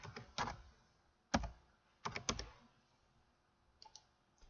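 Keystrokes on a computer keyboard, tapped out in a few short bursts of clicks separated by pauses, close and fairly quiet with no talking.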